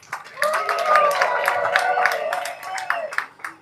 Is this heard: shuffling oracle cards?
no